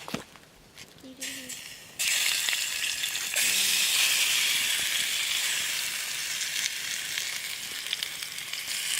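Taco meat frying in a pan at a backpacking campsite, a steady loud sizzle that jumps up after a couple of seconds and carries on hissing, with brief voices near the start.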